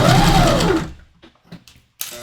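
A sewing machine stitches a curve in fabric, its loud close motor whir running about a second before stopping, followed by soft handling clicks and rustles.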